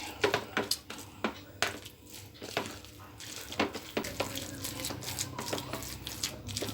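Thick frying batter being stirred in a bowl, heard as a series of sharp, irregular clinks and taps of a utensil against the bowl, fairly close and moderately quiet.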